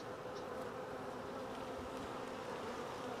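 Honeybees swarm around an open brood frame during a spring hive inspection, filling the air with a dense, continuous buzzing hum that stays steady and close throughout.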